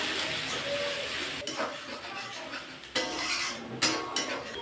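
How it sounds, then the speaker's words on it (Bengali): Ground spice masala of coriander, cumin, turmeric and chili powder fries in a pan for a Bengali koi fish curry, with a soft hiss and several sharp metal scrapes and clinks of stirring. "এটা ভালো করে মশলাটা কষিয়ে নেব।"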